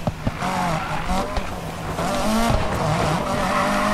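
Car drifting in a Need for Speed Payback video game drift event, a revving engine with sustained tire squeal sliding through turns, steady and loud, with someone talking over it.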